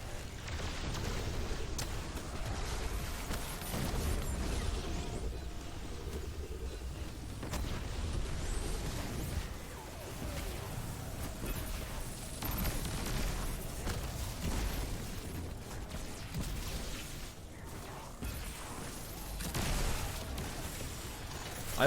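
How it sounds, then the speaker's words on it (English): Skip grenade explosions in Destiny 2, played as a Hunter in the K1 Communion Legendary Lost Sector, form a dense, continuous rumble of booms and bursts layered over busy game noise without pause. "I have found that these skip grenades do actually do a lot of damage to champions."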